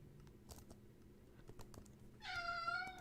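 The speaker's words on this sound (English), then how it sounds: "there's a cat in my room. And he was meowing at my ceiling fan" A cat meows in a bedroom near a ceiling fan, a clear drawn-out meow arriving near the end after soft scattered clicks and taps like keyboard typing in a quiet room.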